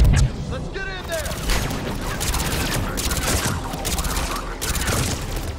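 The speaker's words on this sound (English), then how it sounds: "Shepard, Cerberus troops at checkpoint. Attempting to kill Krogan. Need assistance. I see the checkpoint. They're taking fire" Gunfire and explosive booms from a firefight at a checkpoint in Mass Effect 3, with rapid bursts of shots and heavy impacts continuing loudly throughout, and no clear speech.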